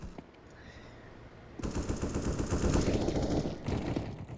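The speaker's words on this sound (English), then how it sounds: "There's a lot of fire over here. I hear a lot of it." Automatic gunfire in the video game CS:GO starts abruptly after a quiet moment and rattles as a dense, sustained burst for about two seconds. It then continues slightly less intensely, sounding close and loud with no talking.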